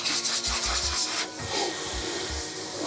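A towel rubbed briskly over a French bulldog to dry it during a mobile grooming session, a close, steady scrubbing hiss broken by soft dull bumps, with no talking.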